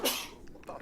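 One sharp, close sneeze bursts out at the very start, then fades into quiet room noise. A person speaks a single short word just afterward.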